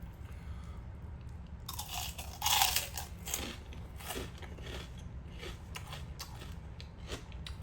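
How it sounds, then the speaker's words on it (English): Crispy chicharron pork crackling with a bit of meat is bitten and chewed close up, giving a loud sharp crunch followed by a run of smaller crackling chews over a low background hum. "Listen to that crunch."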